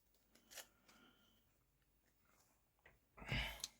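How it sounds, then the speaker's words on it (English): A quick riffle of a card game's encounter deck being shuffled near the end, a short burst of papery flutter after a few faint soft handling sounds. "We then shuffle the encounter deck"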